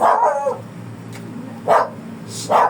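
A dog barks three times, loud and close, with short pauses between the sharp yips.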